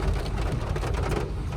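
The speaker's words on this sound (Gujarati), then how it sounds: "વરસાદ ચાલુ થઈ ગયો છે હવે" Steady rain falling during a family picnic outing, a dense, even wash of drops hitting surfaces, fairly close and continuous with no voices.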